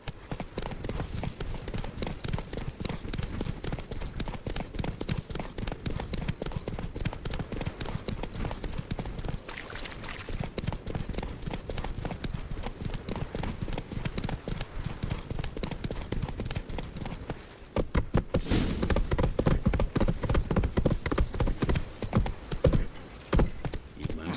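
Horse hooves clip-clopping in The Witcher 3: a continuous, brisk, close trot of hoofbeats at a steady rhythm, with a louder, heavier stretch near the end.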